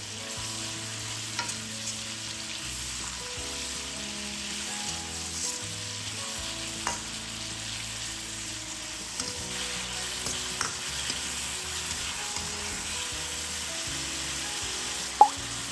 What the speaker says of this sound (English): Fry for about 2 to 3 minutes until the mushrooms are thoroughly cooked.